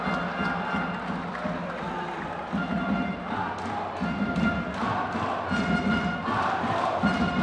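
An indoor basketball arena crowd in Kaposvár cheers and chants steadily for player Márkó Spica, a dense roar with rhythmic swells and claps under a commentator's talk.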